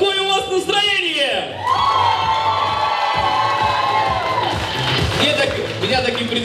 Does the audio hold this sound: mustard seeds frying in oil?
no